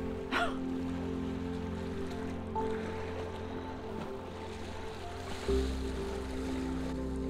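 Waves wash onto a shore at a Crown land campsite, a broad steady rushing roar with low rumble throughout, swelling slightly in places, and no talking.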